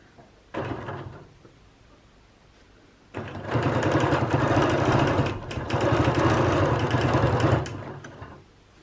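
A sewing machine is doing free motion quilting on ruler-guided flowers, with a rapid mechanical stitching whir close by. A short burst comes first, then two longer sustained runs with a brief dip between them.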